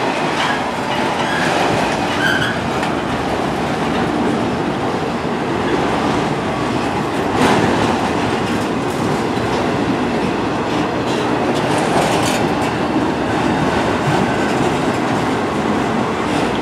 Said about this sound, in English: So I've got an Autorack train, but he's running on yellow, so he has to stop up ahead.